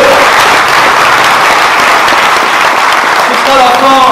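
Applause from an audience at a left-wing political meeting in Bizanos, March 2023, a steady loud wash of clapping lasting a few seconds, with faint voices near the end.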